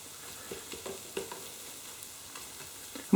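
Wooden spoon working round the edges of a Spanish omelette with potato and chorizo frying in a full pan, soft intermittent scrapes and taps over a faint sizzle, close and quiet.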